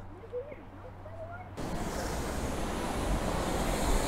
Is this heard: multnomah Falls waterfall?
yes